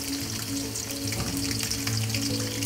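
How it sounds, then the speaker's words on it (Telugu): Green chilli pieces fry in hot oil in a kadai with a steady, close, crackling sizzle that holds evenly throughout, with no voices. "ఆయిల్ వేడైన తర్వాత పచ్చిమిర్చి ముక్కలు వేసి ఫ్రై చేద్దాం."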